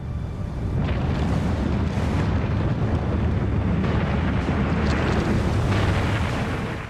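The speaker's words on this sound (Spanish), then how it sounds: "Esta gran cuenca curva fue creada por una gigantesca erupción volcánica" A massive volcanic eruption at Santorini roars as a loud, continuous, deep rumbling blast that swells and holds for several seconds.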